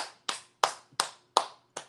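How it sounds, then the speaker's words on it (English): Five sharp hand claps ring out at an uneven, unhurried pace, each crisp and close with a brief decay into near silence in a quiet room. "I was just clapping"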